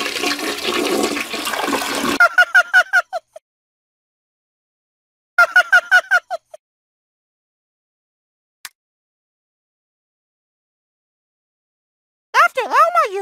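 A toilet flushes with a loud rushing whoosh of water, followed by short bursts of bright, warbling tonal sounds separated by silence.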